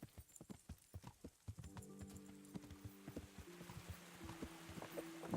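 Horse hooves clip-clopping at a steady walking pace in the video game Kingdom Come: Deliverance, moderately close under a soft ambient background with a low sustained musical drone, no speech.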